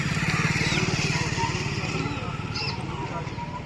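A motorcycle engine idles close by with a steady low pulsing throb, running alone through the short stretch without talk.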